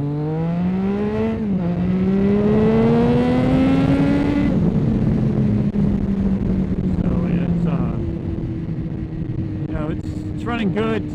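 A motorcycle with a remapped ECU accelerates hard in second gear, the engine note climbing loud and close before easing off into a lower steady drone, with wind buffeting.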